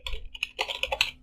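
Quick, close keystrokes on a computer keyboard as a line of code is entered, a run of crisp, uneven taps with short pauses between bursts.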